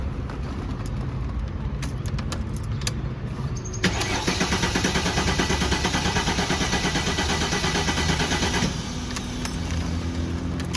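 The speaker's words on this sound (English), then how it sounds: "I'm gonna crank the engine to make sure that it doesn't start" A Mercedes CLK350 with its fuel system disabled cranks steadily for about five seconds without catching. The rapid starter churn is close and loud over a quiet garage background, then it stops.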